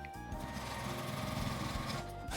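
A sewing machine runs continuously and fairly loudly, edge-stitching the folded opening of a fabric pouch with a steady rapid mechanical chatter, alone without talk.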